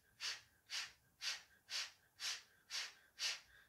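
Breath of fire during a Sat Kriya pranayama exercise: seven quick, forceful nasal exhalations at an even pace of about two per second, close and clear over a quiet room.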